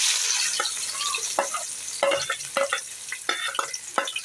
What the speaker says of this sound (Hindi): अब हम इसमें प्याज शामिल करेंगे।